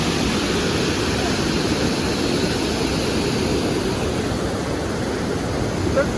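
Dudhsagar waterfall roars in a steady, dense rush, loud and unbroken throughout, with no voices.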